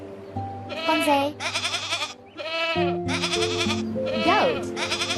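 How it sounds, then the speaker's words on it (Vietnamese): A goat bleats loudly and repeatedly in long wavering calls, close and clear, with brief gaps between cries. "Goat."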